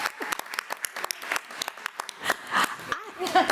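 A meeting audience bursts into applause for a school district employee marking her 50th year, with scattered claps mixed with cheers and voices.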